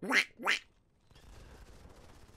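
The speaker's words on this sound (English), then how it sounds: "Hope you guys enjoy surprising duck noises" Two quick, surprising duck quacks ring out up close during an esports broadcast of a Go4MC5 iOS tournament final, loud and separate, then a low room hum takes over.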